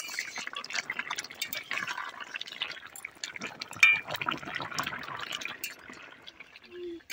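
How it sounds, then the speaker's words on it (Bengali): Shrimp curry gravy with young jackfruit simmers in a pan, giving off a soft, continuous bubbling and popping at a low, close level. "চিংড়িগুলোকে দিয়েও কিন্তু আরো একটু ভালো করে ফুটিয়ে নেব"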